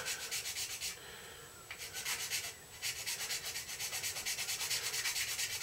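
Steady rhythmic rasping strokes of a file sanding wood near a model plane's stinger, close and continuous with a brief pause midway.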